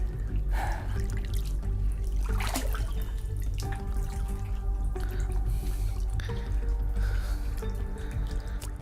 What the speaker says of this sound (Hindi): पानी बह रहा है, लगातार बह रहा है और बाहर की ओर जा रहा है।